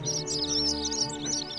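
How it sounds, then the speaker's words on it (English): Birds chirp in a video game set around a Roman-era city shrine, a dense layer of high twittering calls running continuously over a steady tonal ambient music bed, fairly loud and close with no talking. "Those birds were so loud."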